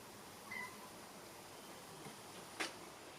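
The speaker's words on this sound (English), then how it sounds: "The kitties want to come in." Cats meow to be let indoors, two brief faint calls heard some distance away over a steady low background hum.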